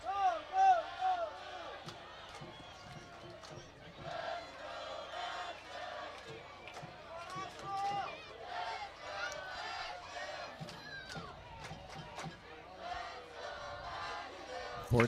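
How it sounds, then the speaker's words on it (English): Home fans roar and chant for Asheville at a football match, rising in loud surges with shouts and a commentator's voice running through, the crowd noise swelling and dipping over its length. "Let's go Asheville, the crowd cheers."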